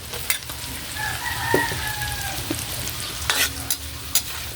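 Onion and ginger sautéing in a pan for tilapia with tomatoes, a steady close sizzle with a few sharp utensil clicks and stirring scrapes, and a faint rooster crow in the background.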